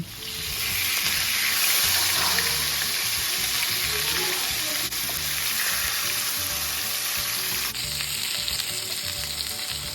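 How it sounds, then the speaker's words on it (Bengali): Loud, steady sizzling of katla fish frying in hot mustard oil in a kadai, a dense crackling hiss that continues throughout with occasional faint clinks. "কড়াই সর্ষের তেল গরম করতে দিয়ে তার মধ্যে মাছগুলো ছেড়ে দিয়েছি"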